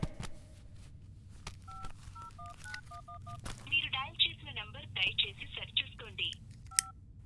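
A phone number is keyed in as a run of distinct electronic tones at a steady pace, followed by a rapid burst of beeps, with people talking under and between the tones.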